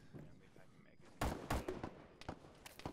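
Distant gunfire in a tactical shooter mission: several sharp, muffled shots crack in a loose irregular sequence over low background rumble.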